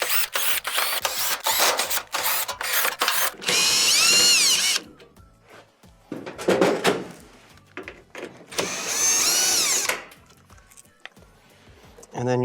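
A cordless power drill spins out No. 2 Phillips screws from the upper panel of a Whirlpool stove in repeated short whirring bursts, some longer, with clicks and handling noises between them.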